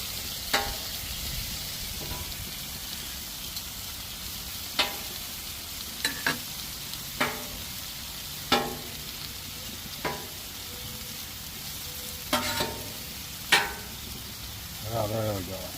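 Onions cooking down in butter on a Blackstone outdoor griddle give a steady low sizzle, broken by sharp spatula scrapes and clicks against the flat top every second or two.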